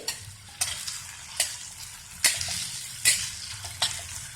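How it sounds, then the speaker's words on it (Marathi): Potatoes sautéing in ghee for sabudana khichdi, stirred with a utensil: six or so sharp scraping strokes at an irregular pace over a steady, close sizzle, with no voices. "त्यासाठी आधी थोडेसे चांगले तांबूस रंगावर तुपामध्ये बटाटे परतून घ्यायचे."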